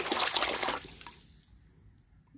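Bubbling water around a submerged Milwaukee M18 brushless impact wrench, a fizzing gurgle that is loud at first and fades away within about a second into quiet.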